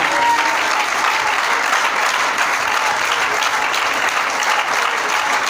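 A church congregation claps together in thanks to the Lord, a dense, steady roar of applause that fills the room evenly from start to finish.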